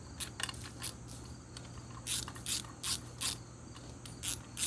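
Bolts on a knuckle reinforcement kit for a T25/T264/T254/T234/RK25 being snugged with a ratchet, giving short bursts of close, crisp clicking that stop and start repeatedly over a steady low background hum.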